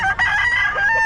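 A two-year-old Hatch Gray McLean gamecock rooster at a gamefowl gathering in Bocaue gives a loud, close crow that is brief and sustained.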